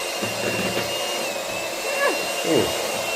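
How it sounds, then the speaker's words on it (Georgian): Strong electric mixer chopping about half a kilo of chicken fillet for a chicken salad with pineapple and cashews, a steady motor whir running throughout with a couple of brief louder surges, close by. "მიქსერი თუ არის ძლიერი, წამში გადააქცევ"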